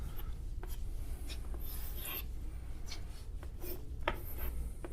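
A marker scratches and taps across a board in short strokes and pauses while a tree diagram is drawn, faint and close with a soft background hiss.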